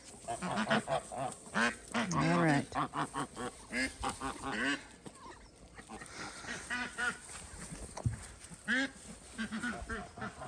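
A flock of large geese in Alaska honks and squawks loudly up close, calls overlapping in bursts, with a person briefly speaking in between.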